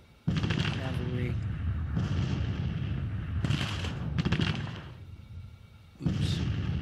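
Civil War battle in the Grand Tactician strategy game: rolling volleys of musket fire and deep artillery booms in several long surges with brief lulls, loud and sustained, with someone talking over the din.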